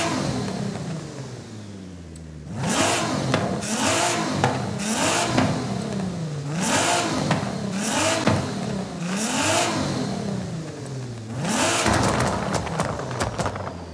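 Nissan GT-R R35 turbo engine in Forza Horizon 5, loud repeated revs climbing and falling in rhythmic waves with crackling turbo pops between them, close and without speech.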